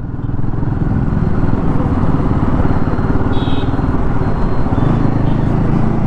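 Royal Enfield Himalayan 450 adventure motorcycle (2024 model) accelerating, a steady loud engine drone held close throughout with rough low rumble and road noise, no voices.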